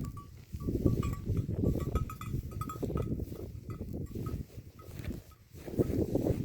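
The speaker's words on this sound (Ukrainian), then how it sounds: "Прогулюючись схилами, ми застали атару свійських кіз." A herd of domestic Norwegian goats moves nearby on a hillside, their small bells clinking steadily over rustling, shuffling noise and faint animal sounds outdoors.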